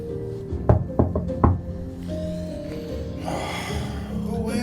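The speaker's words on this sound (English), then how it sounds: "You, Foxner, hear a knock on your door." Several sharp knocks on a door, close and fairly loud, come in a quick irregular cluster, then quieter room sound follows with no talking.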